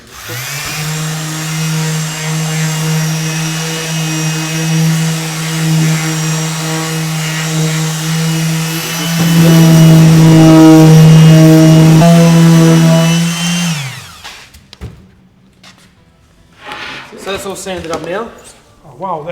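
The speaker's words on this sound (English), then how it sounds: "That's so I can rough the surface up so the paint will stick on it." A power sander roughs up a kitchen cabinet surface before painting, giving a steady loud droning whir that swells louder mid-clip, then cuts off and leaves brief scraping and handling noises.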